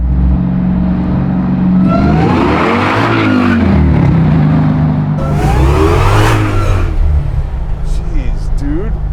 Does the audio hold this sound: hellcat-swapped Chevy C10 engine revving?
yes